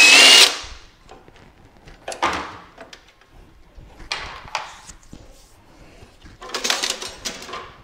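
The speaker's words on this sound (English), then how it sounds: "So two more 10 millimeter nuts come off of the bolts." A power tool, likely a drill or impact driver, zips two 10 mm nuts off bolts while removing a bracket from a BMW 530e high-voltage battery pack safety box, giving several short close bursts separated by pauses.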